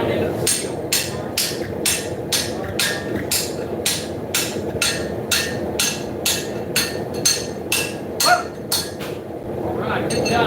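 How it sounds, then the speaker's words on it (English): Rhythmic metallic hammer strikes ring out on a steel blade being forged, about twenty evenly spaced blows with a bright clink each, under low workshop noise and a voice. "hammer that down into the steel"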